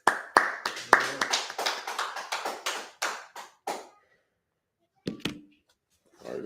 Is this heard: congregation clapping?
yes